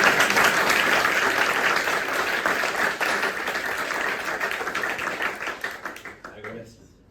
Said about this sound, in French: je voudrais juste qu'on les applaudisse